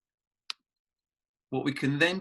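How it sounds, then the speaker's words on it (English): A single sharp mouse click on a course link during a remote-learning webinar, brief and isolated in silence, followed by a person talking. "by clicking on a random course here at the moment"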